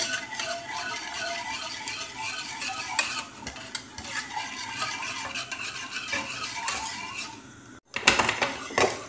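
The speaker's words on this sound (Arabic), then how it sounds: "نقعد نخلط حتى يجمد معنا الخليط" Spoon stirring lemon cream mixture in a pot on the stove, a steady scraping and rattling against the pot with faint sizzling, continuous and close, with a brief pause near the end before stirring resumes.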